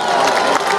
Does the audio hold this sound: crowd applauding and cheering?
yes